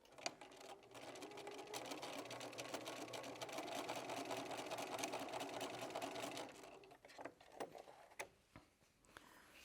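A sewing machine stitches a lavender-scented fabric ravioli, running steadily with a fast, even mechanical whir for several seconds before stopping and settling into a few light clicks and taps.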